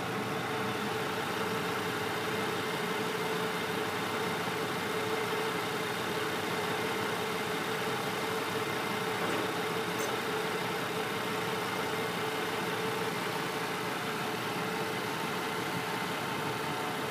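A 2003 Nissan Maxima with its 3.5 engine idles, a smooth steady hum with a faint constant whine, even and unbroken, with no talking.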